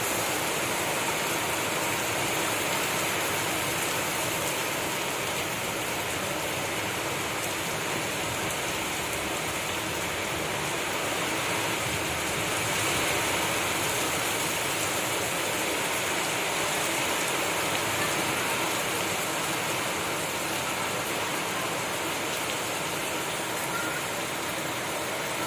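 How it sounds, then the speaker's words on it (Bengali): Heavy downpour of big raindrops under a dark sky, a steady dense roar of rain on surfaces running continuously and close throughout, with no voices. "বৃষ্টির ফোঁটা পড়ছে দেখুন, বড় বড় বড় বড় ফোঁটা"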